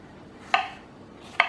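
A knife cutting fresh strawberries into small pieces on a board, two sharp separate chops about a second apart against quiet kitchen background.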